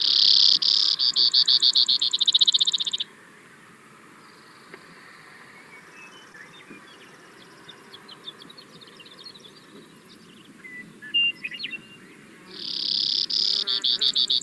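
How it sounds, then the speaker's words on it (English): Brewer's sparrow singing its short song, loud bursts of rapid buzzy trills at the start and again at the end, with a faint stretch of scattered high chips and distant background calls in between. "So this is the brewer's sparrow."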